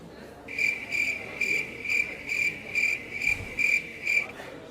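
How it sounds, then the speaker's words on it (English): Crickets chirp in a steady, evenly spaced rhythm of about eight bright trilled pulses, clear and fairly close over a quiet background, with no talking. "I much prefer the sound of crickets to chat."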